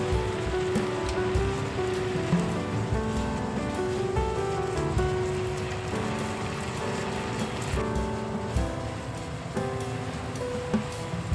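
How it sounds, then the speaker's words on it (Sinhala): Cod fish frying in a pan, a dense continuous sizzle and crackle close by at an even, fairly loud level with small popping bursts throughout. "තව විනාඩි 3ක් වගේ මේක කුක් වුණාම cod fish එක ready."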